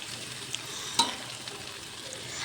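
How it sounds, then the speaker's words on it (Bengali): Fried potatoes hiss gently in a pan as a ground paste of ginger, cumin, coriander and green chilli is added for a vegetarian curry; a soft steady sizzle with one sharp clink of a utensil partway through. "আলুগুলো ভেজে নিয়েছি, এবার বাটনাটা দিয়ে দিলাম"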